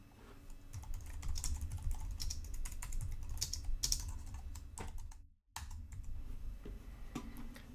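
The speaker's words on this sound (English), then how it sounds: "let me write some more code here to show some other options." Steady, fast typing of code on a computer keyboard, dense close-up key clicks with a brief pause near the end before the tapping resumes, no talking.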